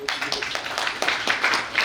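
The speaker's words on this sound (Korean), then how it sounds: "큰 박수 부탁드립니다" An audience at a newspaper's anniversary celebration applauds politician Lee Jun-seok as he is introduced. Many hands clap in a dense, even patter that carries through the whole moment.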